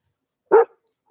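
A single short goldendoodle bark, sharp and close, standing alone in silence.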